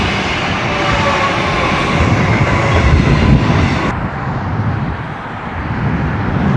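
A train rumbles past close by in St Albans, Melbourne, a loud, steady roar of wheels on rails that eases off toward the end.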